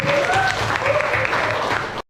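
A classroom of students applauds, a short burst of steady, fairly loud clapping from a group that cuts off abruptly, with some voices mixed in.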